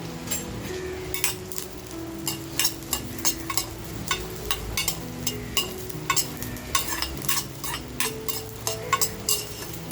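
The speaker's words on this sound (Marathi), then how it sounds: "आलं सुद्धा आपण मस्त असं भाजून घेणार आहोत" Garlic, ginger and green chilies dry-roasting in a pan without oil, for a mandeli (anchovy) kharda: regular scraping and clinking stir strokes over a faint crackle, close and fairly loud, with no one talking.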